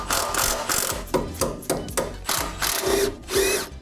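A ratchet wrench loosens sway bar bolts on a car soaked in penetrant, giving a close, loud run of repeated clicking bursts with short pauses between strokes and no talking.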